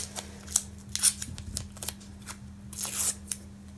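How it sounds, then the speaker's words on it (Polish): Masking tape torn in short ripping bursts and pressed onto a guitar fretboard beside the frets, a series of sharp crackly tears and rubs close up over a steady low hum, with no talking. "nalepiamy taśmę maskującą."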